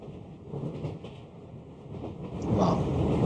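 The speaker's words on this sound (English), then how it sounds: "Suppose you like to hear the sounds of the train." Train ambience from the Noisli background-sound app: a steady low rumble of a moving train with faint rhythmic rattling, moderately loud and continuous, growing slightly louder toward the end.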